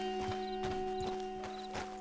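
Hoofbeats of the horse Survivor running fast in Red Dead Redemption 2, a quick rhythmic clip-clop of several strikes over a steady game background hum, with no talking.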